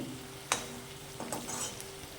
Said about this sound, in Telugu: ఆలుగడ్డలు కొంచెం బ్రౌన్ కలర్ వచ్చేదాకా ఫ్రై చేసుకోవాలి